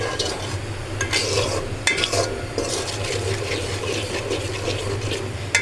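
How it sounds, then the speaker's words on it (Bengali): Spice paste for a beef chuijhal curry is stir-fried in hot oil, a steady sizzle with scraping stir strokes and a few sharp utensil knocks against the pan, close up and with no voices. "এখন ভালোভাবে কষিয়ে নিব, যাতে মশলার কাঁচা গন্ধটা না থাকে"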